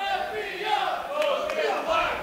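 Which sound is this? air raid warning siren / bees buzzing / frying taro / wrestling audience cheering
wrestling audience cheering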